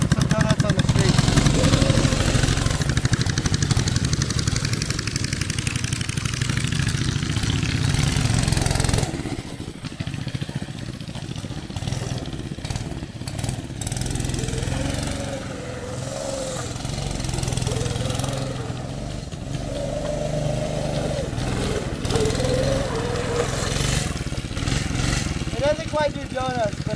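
A small go-kart engine running in a field, a steady buzzing drone that is loud and close at first, then drops slightly and warbles with changing revs, while people talk over it.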